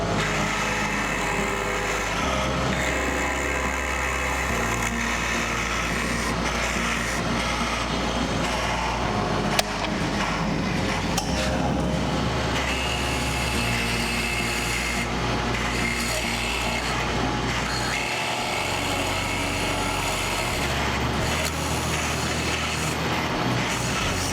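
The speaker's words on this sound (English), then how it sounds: "When drilling tubes without a backer in it, that's going to happen." Continuous grinding and rasping of a drill boring through a composite tube without a backer, steady and close, with a brief sharp click partway through.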